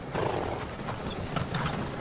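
A horse's hooves clip-clopping in a steady rhythm as it pulls a sleigh, heard up close under a dense rumbling background, with no voices.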